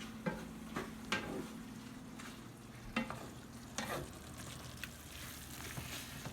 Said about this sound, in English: we're going to let this simmer for about 5 to 10 minutes